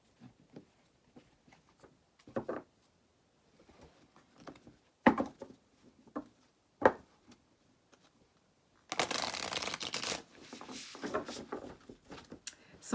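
Tarot cards are handled and shuffled in a quiet room: sparse soft flicks and taps at first, then a louder, sustained riffling burst of shuffling near the end.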